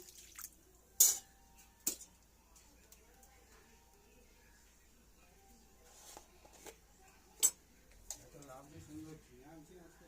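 Water poured into a wok while cooking luffa peel, with a few sharp drips and splashes, light clinks of cookware, and a faint hiss, mostly quiet between sparse bursts.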